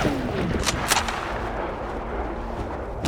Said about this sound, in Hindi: मैंने आज तक इस गेम में स्नाइपर नहीं चलाई, आज इसकी प्रैक्टिस करते हैं